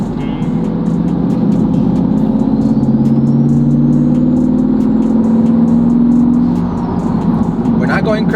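A twin-turbo C8 Corvette engine revs hard and holds high RPM with a smooth, droning exhaust note, loud and close, then eases off near the end.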